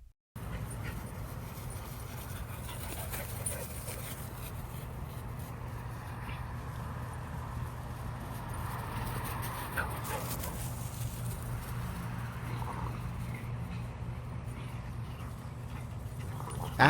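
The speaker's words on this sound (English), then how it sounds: "Took the dogs on a nice long walk, and then let them play around at the dog park." Dogs romping at an outdoor dog park, with panting and scuffling paws over a steady, even bed of open-air ambience and low hum, no distinct barks standing out and no one talking.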